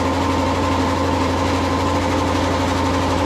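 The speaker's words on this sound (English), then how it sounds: "just turn the compressor back on. And we'll just wait till that charges up" An air compressor runs steadily to refill the receiver tank feeding a plasma cutter, giving a loud, constant motor drone with a low hum and no pauses.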